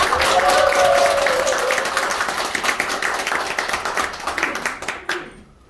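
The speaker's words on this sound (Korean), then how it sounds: "크게 박수 한번 부탁드리겠습니다." Audience at a company gathering in Daegu claps loudly and steadily for about five seconds, a dense roar of hands that tapers off near the end, with faint voices mixed in.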